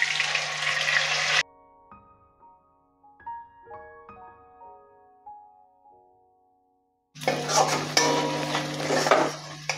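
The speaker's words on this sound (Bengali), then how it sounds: "গোটা গরম মশলা আছে, থেতো করে নিয়েছি, সেটা ফোড়ন দিচ্ছি। পেঁয়াজ বাটাটা দিয়ে দিচ্ছি।" Onion paste frying in hot oil with crushed whole garam masala, stirred in a pan; loud, dense sizzling and scraping open and close the stretch, with a soft melodic passage in between.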